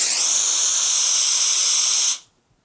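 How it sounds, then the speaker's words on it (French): A Laurastar IZZI garment steamer releases a loud, close burst of fine, dry steam that hisses steadily for about two seconds, then stops abruptly into silence. "vapeur fine et sèche"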